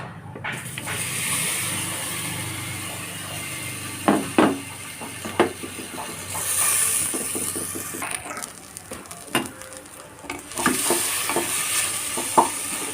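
Banana pieces sizzle steadily in hot coconut oil, broken by occasional scrapes and taps of a spatula stirring in the pan.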